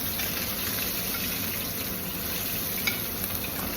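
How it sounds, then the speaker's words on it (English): Pan-seared scallops sizzle as they are basted with hot fat in a skillet, a steady crackling hiss with occasional sharper pops and spoon splashes, close and moderately quiet. "Once again, great sizzle."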